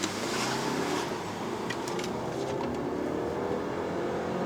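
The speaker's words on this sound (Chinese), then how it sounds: "哇，拉得很高转呢，我都没有踩完" A 2014 Audi A3 sedan's 1.8 TFSI quattro engine, driven in Dynamic mode, revs high under part throttle, a steady engine drone from inside the cabin that holds strong throughout.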